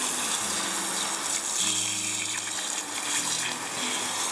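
Running water gushes over the lip of a rock tumbler barrel during rinsing, a loud continuous splashing flow with a steady hiss throughout.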